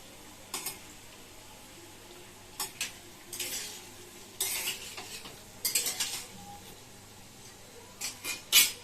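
Semolina chops frying in hot oil, a soft background sizzle broken by scattered metallic clinks and scrapes of a utensil against the pan.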